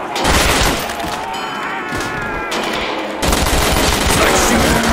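Loud, dense automatic gunfire in the World at War Zombies game, with rapid continuous bursts that briefly ease and then resume heavier, mixed with impacts and game effects.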